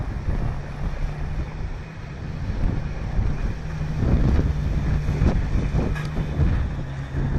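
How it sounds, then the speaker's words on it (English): Strong wind near a Southern California wildfire, a loud continuous rushing roar buffeting the microphone with gusty swells, no voices. "You hear the wind in these headphones as if you was there."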